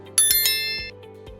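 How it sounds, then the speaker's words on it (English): A notification bell sound effect rings out in a bright, loud metallic chime, struck twice in quick succession and then decaying, alone. "turn on the notification bell"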